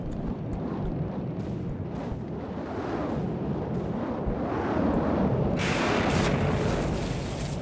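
Torpedoes firing and striking targets in a video game, a dense continuous roar of rumbling blasts and booms that swells louder toward the end.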